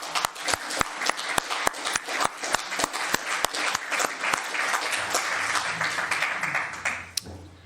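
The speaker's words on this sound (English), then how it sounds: "we are allowed to give people a round of applause if they speak really well" Mourners at a funeral give a round of applause: a few sharp, evenly spaced claps open it, then it swells into a full, close, dense applause before fading out near the end.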